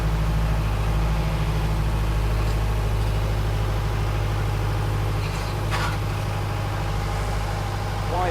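Old Unimog diesel engine running steadily while the driver struggles to find second gear, a deep continuous low rumble with a brief rise in revs and grinding near the end, loud and close with no talk.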